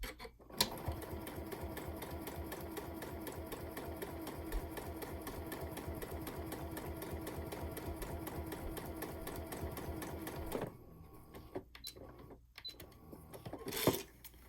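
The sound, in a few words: sewing machine stitching octagon quilt binding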